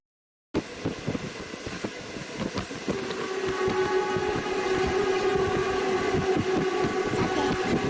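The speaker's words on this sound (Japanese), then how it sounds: "列車は緩い坂を登りながら山奥に分け入っていきます。" A mixed passenger-freight train climbs a gentle grade into the mountains of Fujian, China: steady rolling rumble and rail noise, rising and growing denser after a few seconds and then holding loud and continuous, with no talk.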